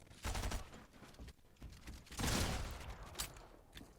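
Rapid video game gunfire during a solo cash cup tournament match, with automatic shotgun fire in play: repeated bursts and sharp shots of varying loudness, the heaviest burst near the middle.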